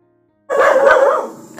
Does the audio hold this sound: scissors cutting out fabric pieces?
no